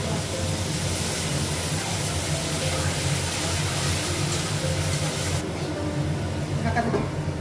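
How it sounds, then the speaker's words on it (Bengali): Spice paste sizzles and hisses steadily as it fries in a pan on a gas stove in a home kitchen, a dense continuous crackle that cuts off sharply near the end, with faint background noise. "মশলাটাও ভেজে নিব"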